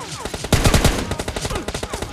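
Rapid automatic gunfire rattles in a PUBG Mobile Lite match, with dense bursts of close shots, a loud cluster in the middle and continuing quick volleys throughout.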